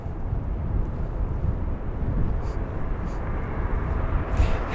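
Airbus A320neo airliner at London Heathrow, a steady broadband engine roar held at constant loudness throughout, with some wind buffeting on the microphone.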